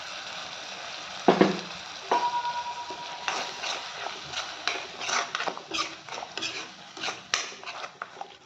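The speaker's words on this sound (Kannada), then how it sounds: "ಈ ಥರ ಇದನ್ನ ಹುರ್ಕೊಳ್ಳಿ ಸ್ವಲ್ಪ ಒಂದು ಐದು ನಿಮಿಷ" Tomato-onion masala frying in a pan at home, a steady soft sizzle with repeated scraping and stirring clinks of a spoon against the pan, fairly close and alone without talk.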